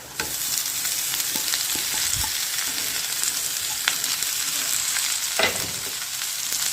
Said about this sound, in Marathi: एकच सेकंड कांदा पात तेलात भाजून घेऊया.